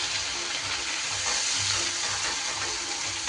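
Ground spice paste sizzles steadily in hot oil in a pan, added right after Kashmiri chilli powder while cooking a vegetarian green jackfruit and paneer curry; a loud, dense, continuous frying hiss with faint stirring scrapes and no talking.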